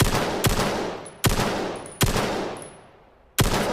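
Four loud, sharp G2 sniper rifle shots from the Vail video game ring out at uneven intervals, each with a long fading tail as the self-recocking rifle fires again, with no voices.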